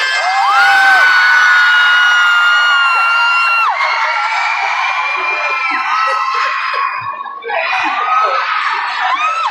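A loud crowd cheers and shouts together at a mall tour, with high whoops and screams sustained throughout, fading slightly near the end before surging again.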